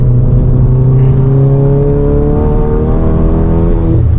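A 500 BHP VW Golf GTI on a road pulls hard in third gear with its tyres spinning. The engine note is loud and close and rises steadily through the whole stretch, with a dense, sustained roar and no pause.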